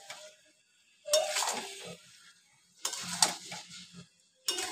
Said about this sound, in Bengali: এবার আমি মশলার সাথে আমার আলুগুলো ভালো করে মিক্সড করে দেবো।